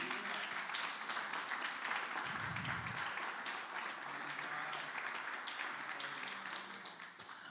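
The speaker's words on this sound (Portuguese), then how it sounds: "Aplauda ao Senhor." A church congregation applauds in steady, continuous clapping that fills the room at a moderate, even level, with no talk over it.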